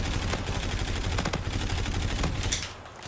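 Automatic gunfire from a heavy-recoil gun in Call of Duty: Infinite Warfare multiplayer, a dense, loud, continuous fusillade with sharper shots standing out, easing off slightly near the end.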